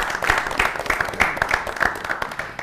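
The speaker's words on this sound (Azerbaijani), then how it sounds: "Alqışla əlini yola salın." Audience applause at a studio entertainment show, a brief burst of dense clapping that stays fairly steady and then begins to fade.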